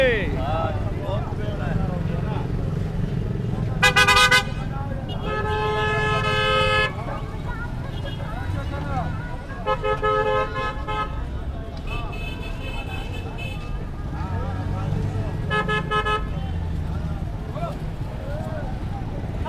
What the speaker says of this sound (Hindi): काफ़ी ट्रैफिक चल रहा है और हॉर्न इतने सारे बज रहे हैं